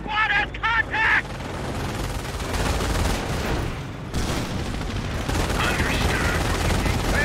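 Rifle squad gunfire in Company of Heroes among Normandy hedgerows: sustained rattling rifle and machine-gun fire with distant booms, loud and continuous for several seconds, with brief shouted voice lines from the game over the shooting.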